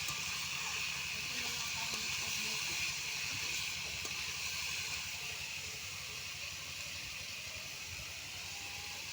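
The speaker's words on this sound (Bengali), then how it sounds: "এবার মশলাটার সঙ্গে কপিগুলো ভালো করে মিশিয়ে মশলাটা আমি বা কপিগুলোর সঙ্গে কষে নিচ্ছি।" Cauliflower florets fry with spices in a pan, giving a steady close hiss of sizzling oil that holds evenly throughout, with no voices.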